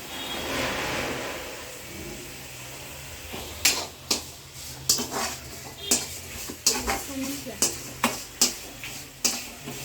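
Food sautes in a pan with a soft sizzle at first, then a series of sharp, regular utensil clanks and scrapes against the pan, with some voice in the background.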